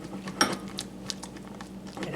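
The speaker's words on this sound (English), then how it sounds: "we're going to stir that in good" A spoon stirs candy corn fudge mixture in a bowl, making scattered clinks and soft scrapes against the side over a low background hum.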